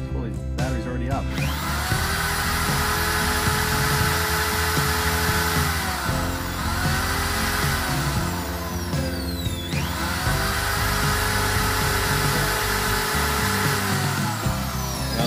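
A heavy-duty power tool powered through a 3000-watt inverter in a small eco food truck whines loudly and steadily, its pitch sagging and rising as the load shifts, with a few clunks at the start.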